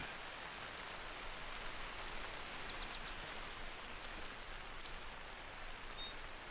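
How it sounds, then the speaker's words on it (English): Steady rain falls outdoors, a dense even hiss of drops on surfaces with no talking, constant and moderately loud throughout. "now that it's raining"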